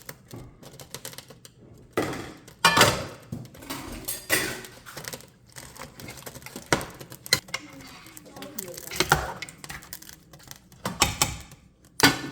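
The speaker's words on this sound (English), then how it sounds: "we're gonna add our blended ginger, garlic, and onion. So, and we're gonna give it another mix" Blended ginger, garlic and onion stirred into a pot for jollof rice, with repeated clattering knocks and scrapes of a utensil against metal, close and uneven, while a person talks intermittently.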